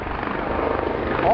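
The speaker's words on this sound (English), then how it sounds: "That is a Coast Guard Seahawk." A Coast Guard Seahawk helicopter passes overhead north of Long Island, a steady broad rotor drone holding throughout the short stretch, fairly close and gradually louder, with no talk over it.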